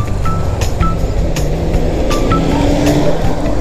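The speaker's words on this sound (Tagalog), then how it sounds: "Traffic tayo." Road traffic jammed near Padre Pio church on a Sunday, a close steady rumble of idling and creeping car engines with scattered faint clanks and brief high tones, no voices.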